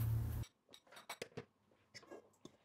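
Egg, pepper paste, flour and chili flakes are mixed in a bowl for içli köfte filling. A short loud burst is followed by quiet, light clinks and scrapes of a utensil against the bowl in an uneven rhythm.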